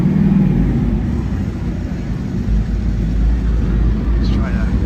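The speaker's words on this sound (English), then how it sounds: "one motorcycle here in New York City. It's making all that noise." A loud motorcycle rumbles along a busy New York City street in Times Square during a protest, a steady low engine drone mixed with traffic and crowd noise.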